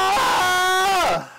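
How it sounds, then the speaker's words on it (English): A man's exaggerated, loud vocal yawn, a strained harmonic cry sliding and wavering for about a second before trailing off abruptly. "That's how I yawn"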